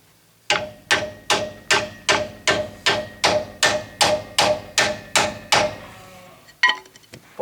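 Hammer blows drive a wood block to seat a rear axle seal on an abandoned 1966 Chevy Posi Trac rear end: about thirteen loud, evenly spaced strikes in a steady rhythm, with a couple of lighter knocks after a short pause.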